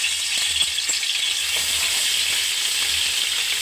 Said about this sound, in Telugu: కొంచెం పచ్చివాసన పోయేలాగా వేయించుకోవాలి